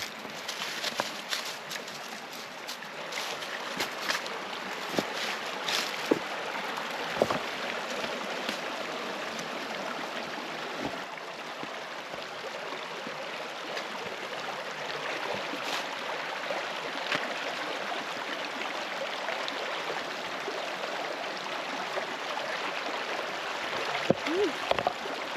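Moving water at a trail stream crossing runs as a steady broadband rush through the whole stretch, with small splashes and sparse footstep-like knocks scattered across it, heard close.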